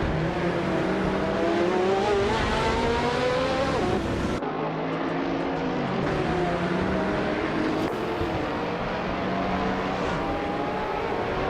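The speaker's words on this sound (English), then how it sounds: "Newts is driving a Marcos LM 600 GT2 from 1995." A 1995 Marcos LM 600 GT2 race car in a racing game snarls through gear changes, its engine note rising and dropping repeatedly in loud, continuous laps with no talk.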